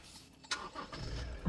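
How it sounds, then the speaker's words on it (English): A 2021 Toyota Land Cruiser Prado Modellista right-hand-drive turns over and fires, a quiet cranking burst settling into a soft low rumble within about a second and a half. "So let's start this car and see."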